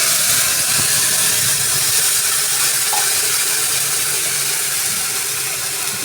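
Garlic and green chili paste hitting a hot pan, a broad steady sizzling hiss that stays loud and even throughout, close up with no talking.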